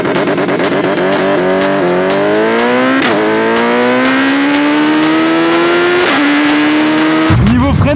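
A 1350 cc sport motorcycle with Brembo Stylema brakes accelerates hard through several gear changes, its engine note climbing in pitch again and again, loud and close with no talk, before a sharp shift in sound at the end.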